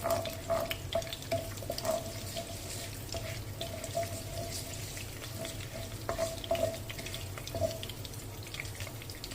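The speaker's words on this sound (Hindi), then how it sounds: "जैसे ही बटर मेल्ट हो गया, इसमें आप तेज पत्ता दो अदद डाल देंगे" Two bay leaves fry in melted butter over a low flame, giving a soft, steady sizzle with light stirring. It stays faint and continuous throughout.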